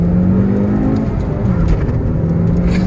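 A Mini Cooper Coupe S in sport mode pulls hard through first gear, its engine note loud and close, rising steadily in a continuous rev with a slight dip near the middle.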